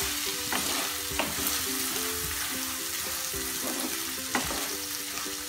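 Rice roasts in a pan for Kashmiri pulao, with a constant loud sizzle. Regular stirring strokes scrape through the hiss across the whole stretch, and no one speaks.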